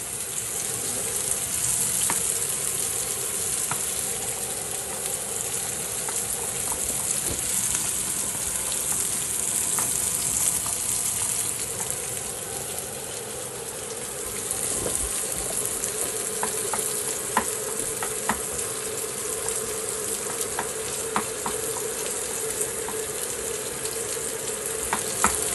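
Carbonara ingredients frying in a pan in a home kitchen, a steady sizzle with stirring scrapes and occasional clinks running throughout, fairly close and even in level.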